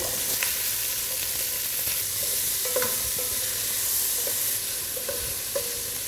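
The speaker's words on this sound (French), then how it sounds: "Donc je colore la viande." Meat trimmings sear and brown in a hot pan, a steady close sizzle and crackle with occasional stirring scrapes, no voices.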